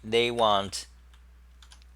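Typing on a compact computer keyboard: a short voiced sound comes first, then sparse, faint key clicks spaced irregularly in a quiet room.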